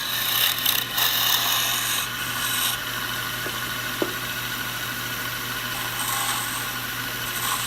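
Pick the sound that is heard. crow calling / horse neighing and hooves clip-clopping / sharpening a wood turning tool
sharpening a wood turning tool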